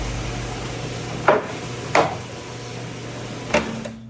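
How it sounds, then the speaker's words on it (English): A gutter machine, powered from a truck, runs as it forms a gutter, giving a steady electric hum and broad mechanical whir close by, broken by three sharp metallic knocks spaced unevenly through it, with no talk. "we're gonna run some power from that thing here to a gutter machine"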